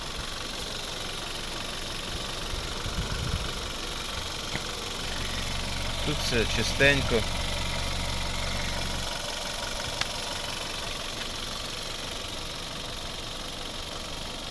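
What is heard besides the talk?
petrol car engine idling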